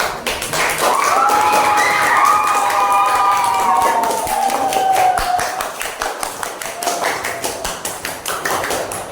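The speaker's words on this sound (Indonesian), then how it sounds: "tepuk tangan untuk kelompok yang keempat" Children in a classroom clap for a group of students after their presentation, a dense burst of hand claps that thins into scattered taps, with a voice rising over it near the start.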